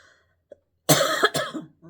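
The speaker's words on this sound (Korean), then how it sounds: "이상하게 기침이 나옵니다." A single sharp cough, a harsh burst followed quickly by a second rougher one, close and loud against an otherwise quiet background.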